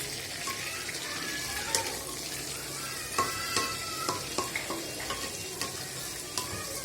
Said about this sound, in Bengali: দুই পিঠে হালকা হালকা লাল করে বাদামি করে ভেজে নেবেন